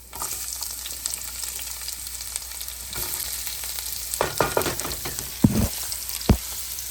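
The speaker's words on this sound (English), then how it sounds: "the onion that I threw in is sizzling" Onion sizzling in a hot pan, a steady crackling hiss with a few louder pops and stirring clatters near the end.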